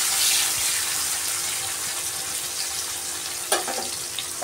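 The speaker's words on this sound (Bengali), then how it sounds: "এবার আমি পেঁয়াজগুলো একটু হালকা লাল লাল করে ভাজবো।" Chopped onions fry in a pan for a mutton curry, giving a continuous bright hiss like running water, fairly loud and even, with a single clack near the end.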